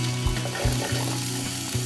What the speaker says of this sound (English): let's cook this onion